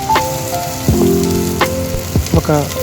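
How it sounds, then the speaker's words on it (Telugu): Onions added to oil with cumin seeds and green chilies fry loudly in a pan for a village-style mushroom curry, a steady crackling sizzle up close with occasional sharper pops. "ఆనియన్స్ వేసి ఫ్రై చేసుకోవాలి."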